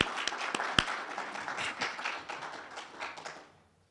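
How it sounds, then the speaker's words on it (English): Audience applause and hand clapping at a Southern African cargo and freight transport forum, a dense burst of claps with a few sharp nearby hits, fading out toward the end. "can I invite you to give Harry an applause by hands of clapping"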